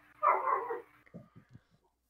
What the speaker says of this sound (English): I have a moody dog.